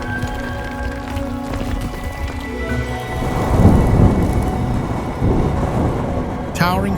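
Tropical thunderstorm in the Philippines, with a low rolling rumble of thunder that swells midway and steady rain hissing and pattering throughout, loud and close with no talking.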